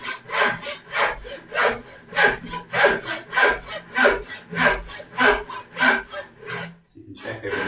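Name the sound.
hand saw cutting a wooden joint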